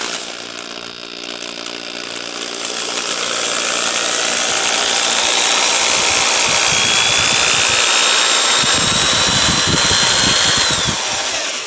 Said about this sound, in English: So it runs the drill just fine.